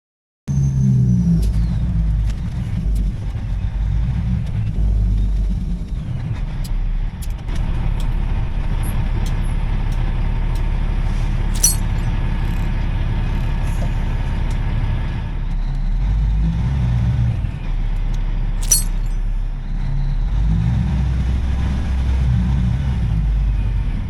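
Delivery truck running along the road, heard from inside: a heavy, steady engine rumble and road drone throughout, with occasional rattles and a few shifts in engine load.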